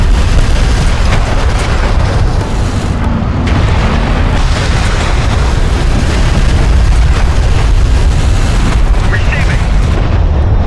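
Dense, continuous gunfire and booming explosions from a desert vehicle battle in Homeworld: Deserts of Kharak, loud and relentless throughout, with radio-style voice chatter over the combat.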